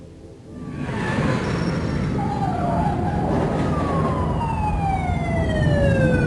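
Ambulance siren in a video game, wailing in long rising and falling sweeps that swell in after a quiet start and stay loud and continuous over a rumbling road noise.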